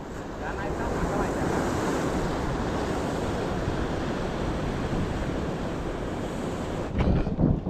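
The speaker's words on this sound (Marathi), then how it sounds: "बघा पाणी झापकन असं खाली जातं आहे वरती येत आहे" Monsoon sea waves on the Konkan coast surge and wash in a continuous roar, loud and close, with a sharper splash near the end.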